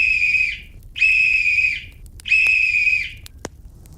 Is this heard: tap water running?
no